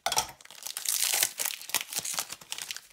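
A foil Lego Ninjago Series 2 booster pack is torn open up close, with loud crinkling and ripping that comes in quick bursts over a few seconds.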